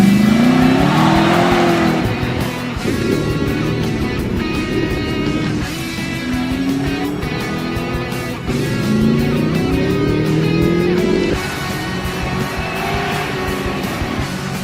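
A Lexus SC400 on a timed autocross run revs hard through the gears, its engine note rising and dropping with each shift and corner, with brief tire squeal, loud and close throughout.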